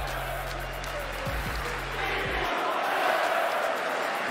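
A Philadelphia basketball crowd roars and murmurs as a player steps to the free throw line. The arena noise is a broad, sustained wash under a low hum, swelling slightly toward the end. A commentator may speak underneath.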